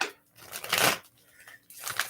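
A deck of tarot cards is shuffled down on the lap in a few short, papery bursts of riffling and sliding, close and distinct, separated by brief quiet gaps.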